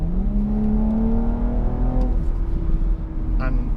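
Audi S4 estate in sport and dynamic mode accelerating hard, its engine note rising steadily in pitch under loud, continuous power, then briefly easing as the gear changes before pulling again.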